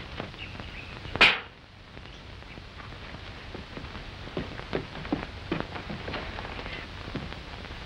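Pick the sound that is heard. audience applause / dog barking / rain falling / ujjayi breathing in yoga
rain falling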